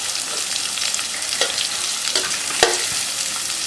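Sliced onions sizzle steadily in hot oil in a pan with a pinch of turmeric, a continuous close frying hiss broken by a few soft stirring scrapes.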